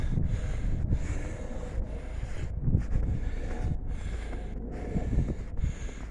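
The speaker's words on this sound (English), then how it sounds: "So he gave me permission to walk to where we're going, although it may get windy." Steady wind gusts buffet the microphone at a railroad rock cut in Berks County, Pennsylvania, a continuous low rumbling roar with brief dips, no voices.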